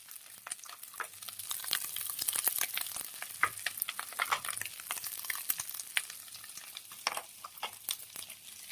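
Potatoes frying in hot oil in a kitchen pan, a close crackling sizzle broken by frequent scraping clicks as a utensil stirs them, with no talk.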